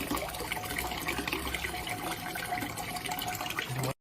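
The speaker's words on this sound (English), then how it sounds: "we will see a strong water flow coming through the inlet hole" Water from a Vital+ chiller pump gushes strongly through an inlet hole in a steady, even rush that stops abruptly at the end.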